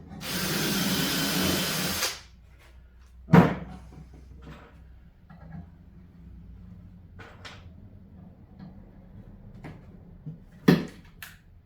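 A power drill bores a pilot hole through particle board, a loud steady whir for about two seconds that cuts off abruptly, followed by a few sharp knocks and clunks of handling at close range.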